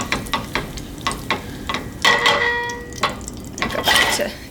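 Butter foams and begins to brown in a pan for a spice cake, a soft close sizzle broken by repeated scraping taps of a stirring tool against the pan, with a few louder stirring bursts.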